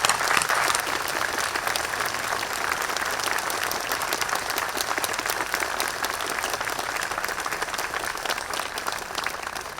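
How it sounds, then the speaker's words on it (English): A Memorial Day crowd in Walnut Creek gives a long, unbroken round of applause for D-Day veteran Jake Larson, the dense clapping steady and moderately loud for about ten seconds with no voices over it. "I want to give a big round of applause."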